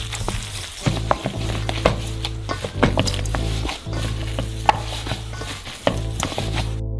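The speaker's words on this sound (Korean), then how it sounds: "다진 고기로 신선한 칠리페퍼와 당연히 소금, 끝. 손으로 잘 섞어주세요." Minced meat being worked together with fresh chili pepper and salt by hand, giving repeated soft, wet squelching and kneading pats over a steady low background hum, with no voices.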